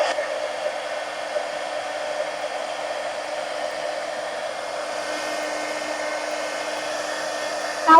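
A heat gun blows hot air over a colored page, giving a steady, close, continuous whooshing roar with a faint whine. It holds an even level throughout with no voices.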